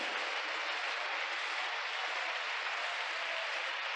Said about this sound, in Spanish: Le damos aplauso al Señor